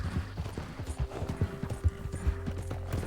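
Rhythmic clip-clop of a horse's hooves as it is ridden in Red Dead Redemption 2, a quick, even gait with a faint whinny over low game ambience.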